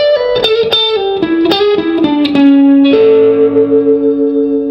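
Electric guitar playing a minor pentatonic lick through effects with reverb and echo, a quick run of picked notes settling onto a sustained ringing tone, loud and close, with no voices.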